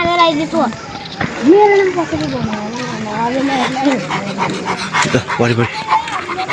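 A person imitates a dog with yelps, whimpers and panting noises during a Diwali night celebration, close and fairly loud, with other voices mixed in.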